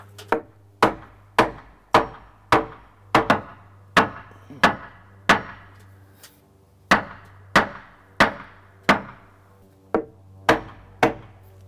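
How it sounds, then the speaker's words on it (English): Repeated hammer strikes on wood while fastening loose joist hangers under a sagging deck, about a dozen sharp, close knocks in an uneven rhythm with a low steady hum behind them. "Hammer these up a little bit."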